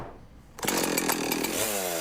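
Chainsaw roars to life after a quiet moment, running loud and steady nearby while felling pine trees infested by southern pine beetle in the Long Island Pine Barrens, its engine pitch wavering as it revs.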